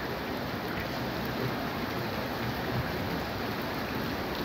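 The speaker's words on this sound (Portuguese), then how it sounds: "Chove sem parar." Steady, even rain hisses continuously, a dense wash of patter with no voices or other sounds on top.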